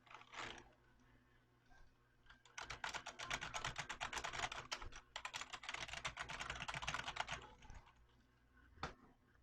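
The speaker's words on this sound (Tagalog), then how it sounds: "ito yung tunog nung luma kong keyboard." Rapid, dense clacking of keys on an old computer keyboard, close and fairly loud, in two long continuous bursts separated by a short pause, with a few isolated keystrokes at the start and end.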